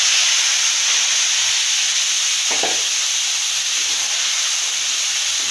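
Spice paste sizzles and hisses steadily in hot oil in a pan. The frying noise is loud and constant, with a brief stirring scrape partway through and no voices.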